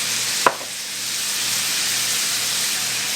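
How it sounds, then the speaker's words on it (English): Shrimp with Cajun seasoning cooking in a pan, a steady soft sizzle and hiss throughout, with one brief sharp clack of stirring near the start. "I'm going to just mix this around and cook this shrimp up until it is nice and pink and cooked through"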